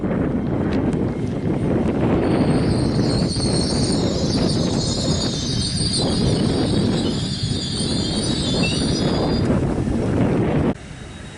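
LNER Class 800 unit 800 110 on the 11:41 King's Cross to Leeds service passes at speed through Grantham on the East Coast Main Line, a loud sustained rumble with high whine and wind buffeting, dropping away at the end.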